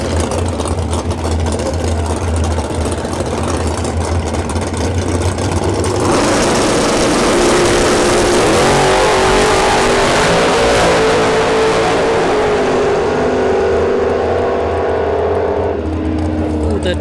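Drag racing cars, a dragster and a door car, roar loudly down the strip at an NHRA bracket race in Bradenton, rising from engine idle into a sustained, intense blast, with a commentator's voice underneath.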